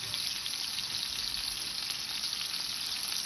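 Tuna steaks sizzle in a cast iron skillet, a steady, even hiss of frying that holds without pause, close and moderately loud, with no voices over it.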